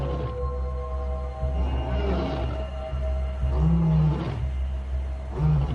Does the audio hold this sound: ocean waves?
no